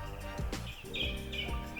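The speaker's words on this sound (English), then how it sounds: "And the birds are noisy today" Faint bird chirps and short whistled calls drift in from a distance over a low background hum.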